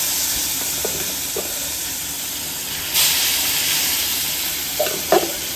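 Fish coated in turmeric and salt sizzles in a frying pan in a home kitchen, a steady hiss with a louder crackling surge midway and a few faint clinks near the end.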